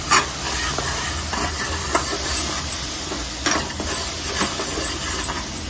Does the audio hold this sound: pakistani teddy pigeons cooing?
no